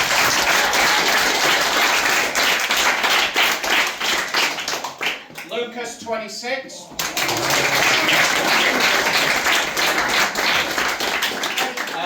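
A crowd at a football club awards night claps for goalscorer award winners, sustained dense applause that briefly dips and then swells again while someone speaks over it.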